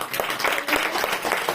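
A church congregation gives a short burst of loud, steady applause for the Lord Jesus Christ during a worship service, dense and continuous with no pauses.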